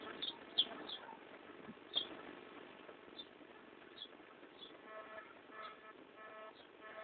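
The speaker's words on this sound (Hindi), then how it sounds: "ये चिड़िया भी सारी आके उधर शोर कर रही है" Birds chirp noisily near a village house in short, high, scattered calls that repeat every second or so over a faint background hum.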